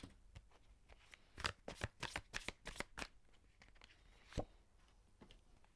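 Tarot cards are shuffled and drawn close by, in a run of rapid riffling flutters followed by a few isolated card snaps, with no talk over them.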